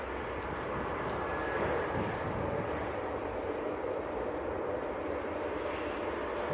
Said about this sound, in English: EasyJet's A321neo